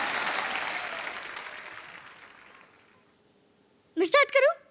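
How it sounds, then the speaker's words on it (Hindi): Studio audience applause on a TV comedy show starts loud and fades away over about three seconds, followed by a brief burst of speech. "ठोको ताली"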